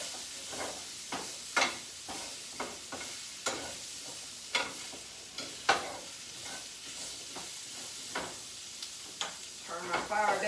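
Peppers and onions sizzling in a hot pan, tossed with rhythmic spatula scrapes roughly every half second over a soft background hiss, close and moderately quiet, with a louder burst of sizzle at the end.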